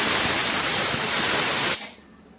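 A pressure cooker of tempered rice vents steam in a loud, steady hiss that fills the kitchen, then cuts off abruptly near the end, leaving only quiet room tone.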